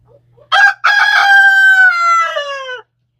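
Nick the rooster crows loudly and close by in protest when his hens are picked up, one long drawn-out call after a short opening note, with no other sound around it.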